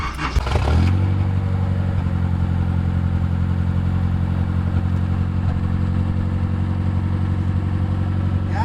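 A junkyard Nissan engine cranks briefly, then catches and settles into a steady, loud idle that runs slightly high, with no one speaking.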